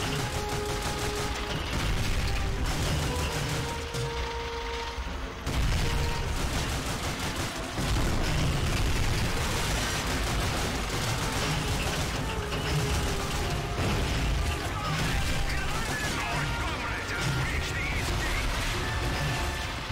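Cannon shots and gunfire in the war video game Call of Duty: Finest Hour, a dense, continuous din of shooting and mechanical clatter with heavy blasts, loud and sustained.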